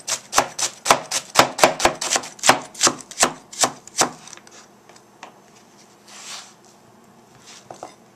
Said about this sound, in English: Now I chop the cabbage.